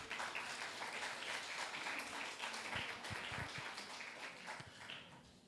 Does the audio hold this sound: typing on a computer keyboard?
no